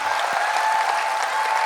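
Audience applause at a colossal musical drama performance, a steady wash of clapping that runs evenly through the whole moment without a voice on top.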